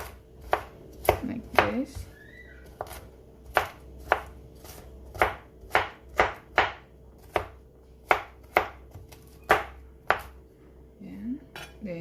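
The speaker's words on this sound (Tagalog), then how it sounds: "Chop the garlic" Garlic chopped with a knife on a board, about fifteen sharp, near knocks in an uneven rhythm, with a brief spoken remark in between.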